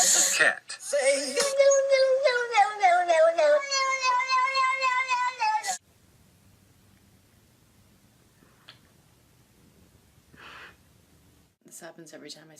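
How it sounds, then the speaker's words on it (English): A cat gives a run of loud, close, drawn-out wavering meows lasting several seconds, then things go quiet with only faint rustles and a brief sound near the end. "What does the cat say?"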